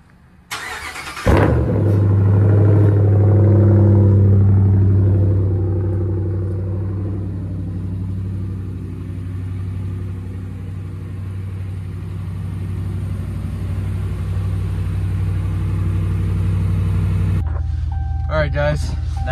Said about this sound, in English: I'm gonna do a cold start on the truck because it hasn't started today